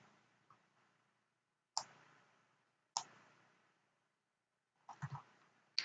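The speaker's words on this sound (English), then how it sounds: "So right mouse click," A few sharp, quiet mouse clicks sound one at a time with pauses between them, ending in a quick cluster of clicks.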